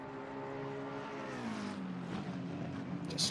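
Race cars lapping Suzuka circuit at night, including Honda NSXs, pass through 130R with a sustained, droning engine and exhaust roar whose pitch slowly falls, steady and fairly distant with no voices.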